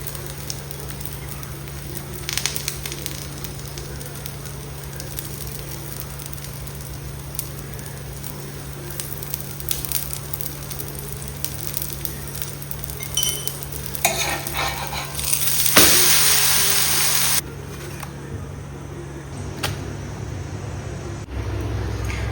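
Dosa frying in a pan makes a soft, steady sizzle over a low hum, with stirring scrapes and a louder hiss burst late on.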